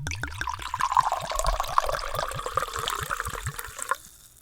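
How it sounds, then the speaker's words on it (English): Wine glugs steadily from a bottle into a glass, a rhythmic series of close liquid pulses lasting about four seconds before stopping abruptly. "Time for the pour."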